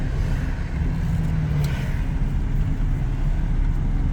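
A 1936 Packard twelve-cylinder car engine while driving, a smooth, steady low rumble with road noise that stays level throughout, with no talk.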